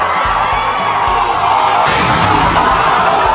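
Packed wrestling crowd roaring and whooping without letup, a dense, loud wall of cheering with yells and bangs poking through.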